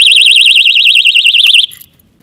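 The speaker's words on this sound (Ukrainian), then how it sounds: "як я його зараз почну рухати, він зараз почне пищати" A Weison DX 26 motorcycle alarm lock emits a loud, piercing warbling alarm continuously up close when moved, then cuts off abruptly near the end, leaving near silence.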